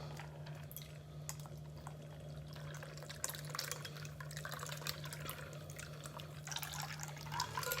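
A mixed cocktail is strained through a simple strainer and poured into a large martini glass, a faint, continuous liquid trickle with light drips over a low steady hum.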